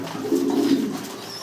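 Cream bar Danish pigeons coo in a low, soft, rolling call lasting under a second, close by and clear, with faint background noise and no talking.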